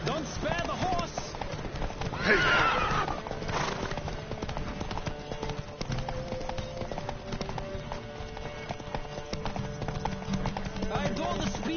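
Horse hooves clip-clopping at speed in The Witcher 3: Wild Hunt, with a brief whinny early on, all steady and close under continuous game music and spoken dialogue.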